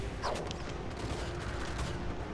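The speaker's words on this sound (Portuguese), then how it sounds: "Eu tô atirando agora nela com o canhão." Dwarf cannon fire in the strategy game Total War: Warhammer III, a dense rumbling barrage of booms and blasts running continuously under a steady battle din.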